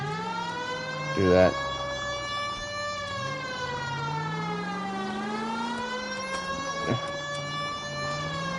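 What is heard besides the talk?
police car siren in LA Noire video game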